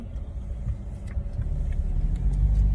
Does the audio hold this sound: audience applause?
no